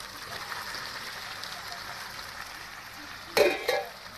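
Bitter gourd dropped into hot masala in a pan, a low continuous sizzle followed by a couple of sharp scraping stirs near the end.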